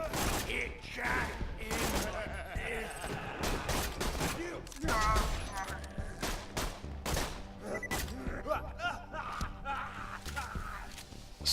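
Gunfire from a weapon in the video game Borderlands 2: rapid bursts of sharp shots and impacts crowd the first half, then thin into spaced single cracks, with in-game effects and a voice underneath.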